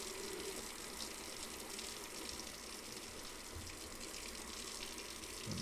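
Water gushes steadily from a tap into a sink in the Homebrew Simulator game, a broad, even hissing flow that holds constant throughout at moderate, close level.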